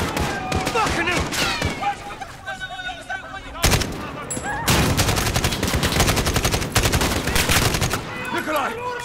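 Rapid automatic gunfire in the video game Call of Duty Modern Warfare, loud dense bursts filling most of the stretch, with a short lull and shouted voices mixed in.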